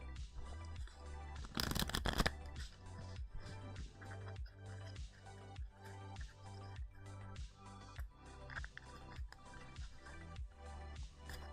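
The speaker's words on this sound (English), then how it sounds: "Let's keep shuffling." Riffle shuffling of a Cryptid Camp playing card deck, close and steady, repeated rhythmic card flutters with one louder burst of cascading cards near the start, no talk.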